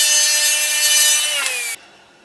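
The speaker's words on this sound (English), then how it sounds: "cut a small chamfer here with just my 1/8 blade" A power saw with an eighth-inch blade whines at a high pitch as it cuts a small chamfer in a wooden drill press fence. The tone slides downward as the blade slows, then cuts off sharply, leaving a faint hum.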